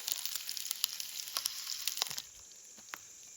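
Hot dogs frying in butter on a small gas stove outdoors in a forest, a steady close sizzle with crackling pops that eases to a quieter fry partway through.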